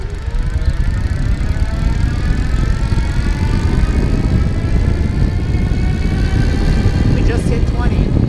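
A 2016 Ariel Rider W-Class electric bike cruises on throttle with a steady motor whine under constant wind and road rumble, loud and close throughout.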